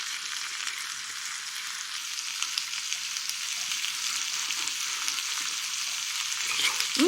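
Vegetable gopchang (beef tripe) with green onions sizzles steadily in a hot pan, a continuous crackling hiss with no voices.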